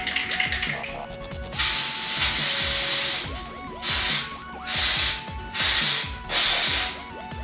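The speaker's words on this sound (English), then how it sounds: "This is a Dremel tool." A Dremel rotary tool whines up close, first in a sustained run of about a second and a half, then in three short, even on-off bursts. Mechanical clicking comes before it.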